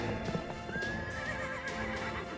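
A horse in the Fate/Grand Order video game gives a rising, drawn-out neigh over the clatter of hooves and steady background game ambience, with no talk.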